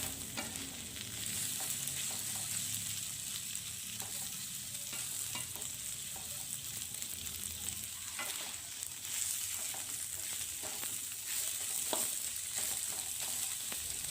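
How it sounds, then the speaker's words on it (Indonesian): Green beans tossed with sautéed onions in a pan, a steady broad sizzle running throughout with repeated scraping clinks from stirring, close and fairly loud, no talking. "lalu aduk buncis dengan bawang yang udah ditumis tadi"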